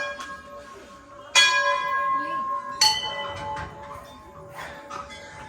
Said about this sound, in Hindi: यहाँ सबसे ज़्यादा घंटियाँ हैं।